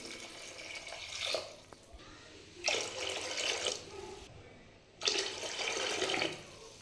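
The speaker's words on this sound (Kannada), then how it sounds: "ಈಗ 3 ಗ್ಲಾಸ್ ನೀರು ಹಾಕ್ತಾಯಿದ್ದೀನಿ" Water poured from a glass into a cooking pot with rice, three separate splashing pours with short pauses between them, close and fairly quiet.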